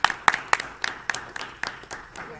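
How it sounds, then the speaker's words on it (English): Scattered applause from a school board meeting audience, a handful of distinct, uneven claps spaced through the moment, fairly close and thin rather than a full ovation. "I think we should give him a round of applause as well"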